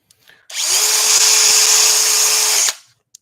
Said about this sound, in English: try and keep the drill up nice and straight.